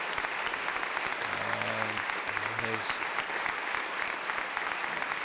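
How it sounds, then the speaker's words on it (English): An inauguration crowd gives a standing ovation, with dense, sustained applause filling the whole stretch loudly and evenly, while a few brief tonal sounds rise faintly beneath it. "Standing ovation here."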